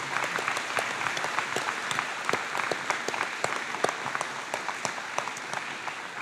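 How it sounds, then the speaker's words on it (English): Scattered audience clapping at a college commencement ceremony, with individual claps standing out crisply in an uneven, moderately sparse rhythm that continues throughout. "Can we give them a clap and support them?"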